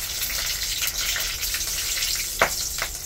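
Bay leaves and dried red chillies tempering in hot oil for a mixed-vegetable dal, a soft steady crackling sizzle with a couple of sharper splutters near the end, heard alone without speech.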